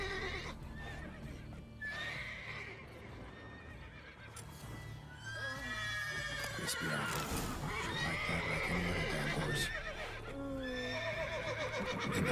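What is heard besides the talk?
horse neighing in video game The Witcher 3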